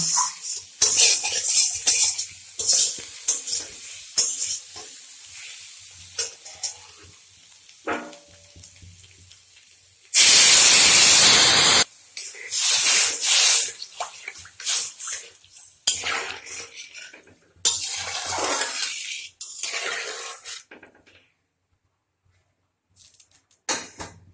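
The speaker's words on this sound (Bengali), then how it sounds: "এখন আমি জল দিয়ে দিব।" Water poured into a hot cooking pan while making a vegetarian taro curry, with a sustained loud rushing burst midway amid clattering utensils, pan scrapes and sizzling, close by.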